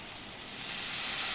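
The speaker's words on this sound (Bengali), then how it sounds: "আমি এর মধ্যে এখন জল দিচ্ছি" Water added to fried spices in a pan for a fish curry hisses and sizzles in a broad steady wash that swells slightly, with no talking.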